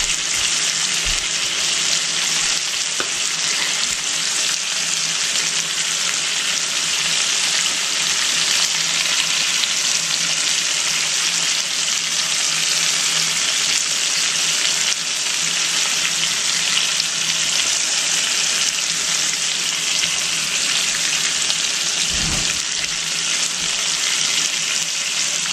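Food sizzles steadily in a hot pan, a loud, dense, unbroken hiss of frying that holds close and even throughout with one small knock near the end.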